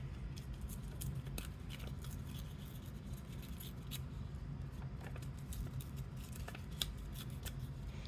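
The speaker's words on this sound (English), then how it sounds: "So I'm just going to hand tear it." A paper window envelope is torn by hand, a string of sharp close crackling rips and rustles repeating irregularly over a quiet background, with no talking.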